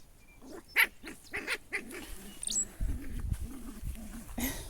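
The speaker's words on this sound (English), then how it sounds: "Noisy puppy." A puppy yaps a few times, sharp short barks scattered among outdoor garden sounds, fairly close and moderately loud.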